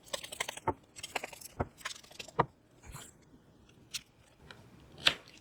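A tarot card being drawn from a deck: soft scattered clicks, flicks and paper rustles, close and quiet, with a few sharper snaps and no talking.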